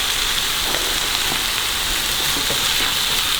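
Chicken and green curry paste fry in a pan with a loud, dense, unbroken sizzle, close and steady throughout like heavy rain, with faint ticks of spattering oil.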